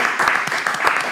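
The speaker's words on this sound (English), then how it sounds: "Clap it up for yourself" A few people on a podcast set clap briefly, with a handful of distinct, close claps over a short burst.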